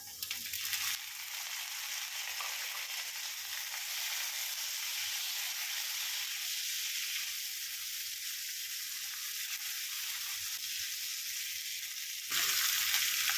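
Sautéed onions sizzling hard in a pan for a Kerala-style okra and tomato curry as chopped tomatoes go in: a continuous close, loud frying hiss that swells at the very end, with no voices.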